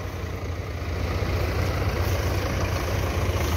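A Belarus tractor hitched to a trolley runs with a steady, close diesel drone and a deep low rumble, holding an even idle throughout with no voices.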